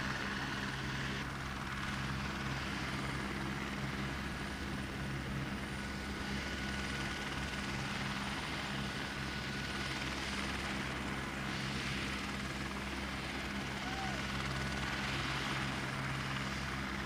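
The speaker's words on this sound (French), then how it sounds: "Le chef de la tribu accepte de servir de guide et monte à bord de l'hélicoptère." A helicopter flies steadily nearby, its engine and rotor making a constant loud, droning roar with no pauses or voices.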